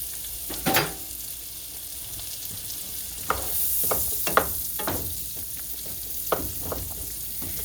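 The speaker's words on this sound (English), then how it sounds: "So let me grab my onions. I'm going to add those straight in there." Onions sizzle steadily in a hot pan for shrimp alfredo, with intermittent clinks and scrapes of a utensil stirring them, close and fairly loud with no talking.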